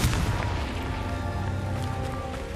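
Confringo fire spell blasts in Hogwarts Legacy, a dense rumbling explosive roar with heavy low boom sustained throughout, loud and continuous with crackling texture on top.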